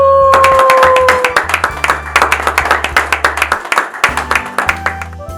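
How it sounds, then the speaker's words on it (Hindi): An audience claps warmly to welcome a guest on stage, steady rhythmic applause from a crowd over a sustained musical backing, loud and close. "तो एक बार जोरदार तालियों के साथ विनी"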